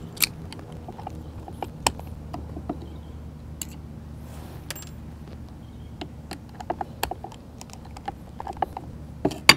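A tool unscrews the spring on a King Song KS-18L electric unicycle pedal, making faint ratcheting clicks and sharp metallic ticks scattered over a low steady hum, close and quiet with no talk.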